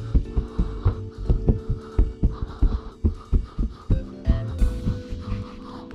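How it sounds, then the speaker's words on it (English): A Woolly Mammoth microfiber dryer towel patted against a wet car surface: a steady series of soft, muffled thumps, roughly three per second, close and fairly loud against a faint background hum. "They claim that you just pat it and then it'll dry instantly."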